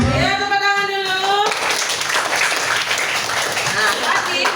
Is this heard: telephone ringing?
no